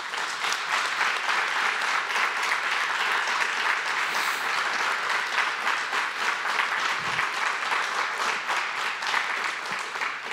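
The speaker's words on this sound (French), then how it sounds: "J'aimerais ça qu'on les applaudisse." Sustained applause from an audience honouring employees at a regional economic-impact announcement in Abitibi-Témiscamingue, a dense, even wash of clapping holding steady for about ten seconds with no voices over it.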